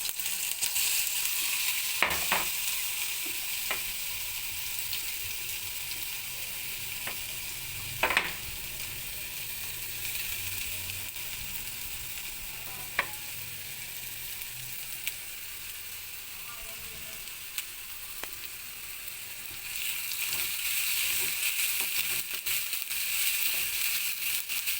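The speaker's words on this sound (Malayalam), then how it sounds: "നമുക്ക് അതിലേക്ക് കുറച്ച് വെളിച്ചെണ്ണ ഒഴിക്കാം. വെളിച്ചെണ്ണ ഒഴിക്കാന്ന് പറഞ്ഞാൽ തേങ്ങയിലെ വെള്ളവും പറ്റും, പെട്ടെന്ന് നമുക്ക് വറുത്തെടുക്കാം കേട്ടോ." Chicken fries in coconut oil for a roasted-coconut curry, giving a steady, close sizzle for about 25 seconds, broken by a few sharp clicks and scrapes from stirring in the pan, with no one talking.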